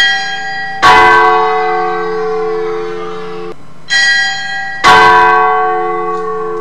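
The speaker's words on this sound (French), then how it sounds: "les carillons résonnent." Church bells ring out in loud, resonant strikes, three clear chimes with long humming decays between them.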